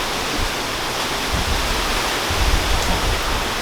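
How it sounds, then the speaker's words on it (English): Hurricane Matthew winds roar in sustained gusts around a house roughly 80 to 90 miles from Daytona, a dense, loud rush of air with no talking. "a big gust will come through, and it sounds like it's gonna blow the house down"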